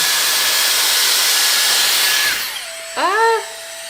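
A Dyson Airstrait hair dryer-straightener blows a loud, steady rushing hiss close by, then winds down with a falling whine, followed by a brief higher whirr.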